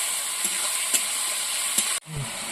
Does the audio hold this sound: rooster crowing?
no